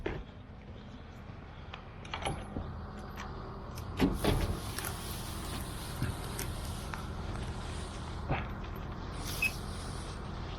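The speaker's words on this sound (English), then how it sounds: "Let me roll the tarp." A tarp being rolled on a trailer hitched to a 2020 Ford F450 6.7 Powerstroke, the roller having a loose bearing without a grease fitting. Up close there are mechanical whirring and ratcheting, with scattered clicks, squeaks and clunks over about ten seconds.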